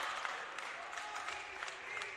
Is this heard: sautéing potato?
no